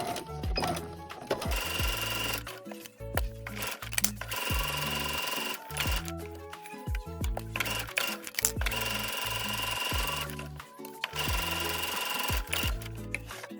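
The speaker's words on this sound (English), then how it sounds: "Sew along both angled sides and across the top" A sewing machine stitches fabric for a puffy beach-themed keychain bow, running in repeated bursts of rapid mechanical whirring and needle chatter with short pauses between runs, close and fairly loud with no talking.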